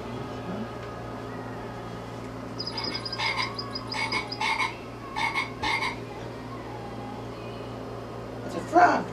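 Several short squeaky croaks come in quick bursts, a squeeze toy imitating a frog, with a brief voice near the end.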